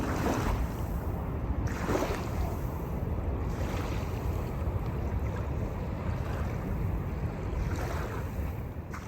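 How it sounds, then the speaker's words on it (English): Water lapping at a park beach near a bridge on a gate-fenced shoreline: gentle waves washing in soft rolling surges every couple of seconds, mixed with steady wind rumble on the microphone, with no talking. "I want you to listen to the water here, how nice it sounds."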